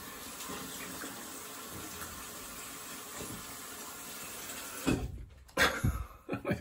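Tap water runs steadily for a quick rinse after a wet shave with a Signature soaps Hibernia lather, a constant close hiss that breaks into splashing and rinsing near the end.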